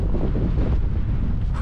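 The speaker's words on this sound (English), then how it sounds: "The wind's not bad, is it?" Gusty wind buffets the microphone on an exposed moorland ridge at Blakey Ridge, a continuous low roar filling the whole moment with no voices.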